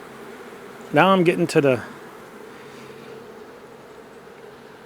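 Honeybees humming softly around an open nuc hive during a combine inspection, a steady low buzz running throughout, briefly covered by a short spoken phrase near the start before settling back to a faint continuous drone.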